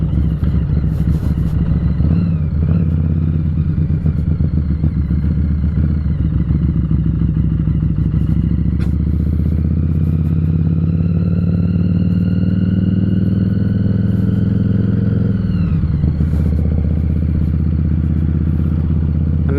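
A Harley-Davidson Street 500 motorcycle ridden at night, its engine droning loud and steady from the rider's position, pitch shifting with gear changes and throttle, joined by wind rush and no voices.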